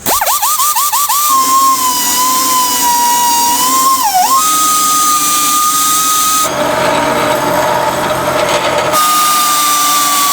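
Power tool grinding burrs off metal before welding during a trenching repair, a loud continuous high whine that rises, dips and shifts pitch as it bites into the metal, with a harsher grinding stretch midway.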